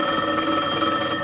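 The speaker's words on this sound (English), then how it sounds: "Phone." An old-fashioned telephone bell rings steadily and loudly in a studio sitcom setting, heard alone without talk.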